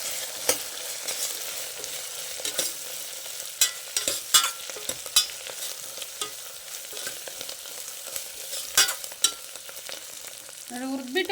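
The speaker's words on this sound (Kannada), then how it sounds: "ತೆಂಗಿನಕಾಯಿ ತುರಿ ಹಾಕ್ತಾ ಇದ್ದೀನಿ. ಸ್ವಲ್ಪ ಹುರ್ಕೊಳ್ಳೋಣ, ಎಲ್ಲ ಮಿಕ್ಸ್ ಮಾಡಿ." Grated coconut fries in oil while being stirred, a soft steady sizzle punctuated by repeated sharp scrapes and taps of a spatula on the pan, close and without any talking.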